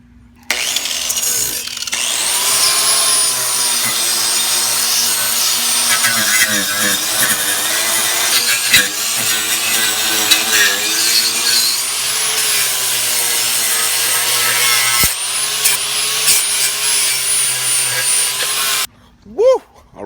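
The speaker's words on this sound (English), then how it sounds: "use the grinder with a wire wheel on it" Angle grinder fitted with a wire wheel brushing rust off a Camaro rear differential, a loud continuous whirring scrub that wavers in pitch for most of the clip, then stops abruptly near the end.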